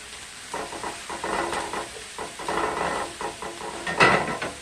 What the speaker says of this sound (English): Throw in a couple ribs of celery now with my onion. I'm going to let those saute a little bit.